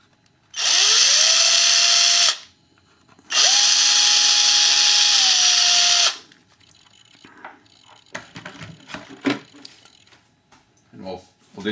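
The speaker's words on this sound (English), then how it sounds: "So I got a 2mm drill bit, and I'll drill those 2 clearance holes" A 2mm bit in a power drill bores two clearance holes in model aircraft parts as two close, steady whining bursts, the second longer. Softer handling taps and rustles follow.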